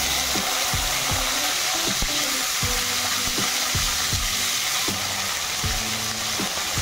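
Potatoes fry in hot oil for a village-style Odia chicken and potato curry, giving a loud, steady, close sizzle throughout with periodic knocks and scrapes of stirring.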